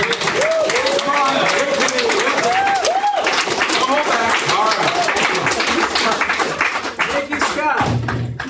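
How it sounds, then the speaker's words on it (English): Audience applause and clapping for a speaker at an EFF and EFF-Austin salon during SXSW, dense and sustained throughout, with someone talking over it near the end. "Please give me one more round of applause for Mr. Binney here."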